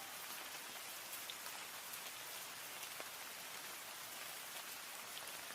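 Steady rain pours down evenly, a dense continuous patter of drops on a surface, soft and unbroken throughout.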